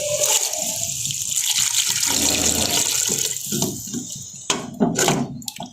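Water poured into a pan of fried potatoes and peas for Punjabi dhaba-style aloo matar, a steady rushing pour with sizzling, close and fairly loud, ending in a few splashes and clatters.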